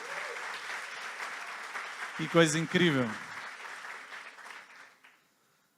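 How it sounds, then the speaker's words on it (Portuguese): A church congregation applauds the worship team at a Christian conference, steady clapping that swells briefly as someone speaks over it, then fades and stops abruptly near the end. "Você pode aplaudir ao Senhor por essa equipe de louvor incrível aqui também?"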